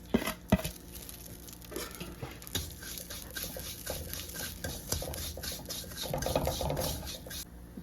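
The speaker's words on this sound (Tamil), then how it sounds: "ஒரு நெய் ஊற்றி சேமியாவை நல்லா வறுத்துக்குவோம்." Vermicelli roasting in ghee in a pan is stirred with a spoon, giving close scraping strokes and light taps against the metal along with a soft sizzle that grows toward the end.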